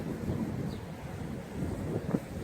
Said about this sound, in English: this wind is crazy out here too